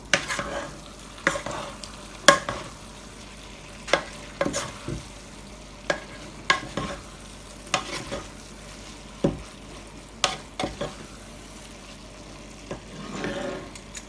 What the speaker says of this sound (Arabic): هلا رح نقلب الرز تقليبة خفيفة